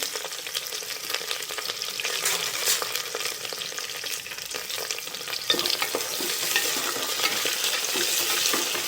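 Onions fry for biryani while being stirred, a close, steady crackling sizzle with frequent scraping strokes of the spoon, growing slightly louder in the second half, with no talk.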